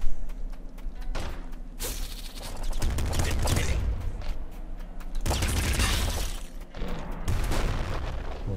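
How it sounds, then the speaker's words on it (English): Machine guns in the video game Nuclear Throne fire in rapid, dense bursts with booming impacts and whooshes, loud and close, in several clusters across the stretch with brief gaps between them. "So I can keep spamming my machine guns and not worry that much about ammo."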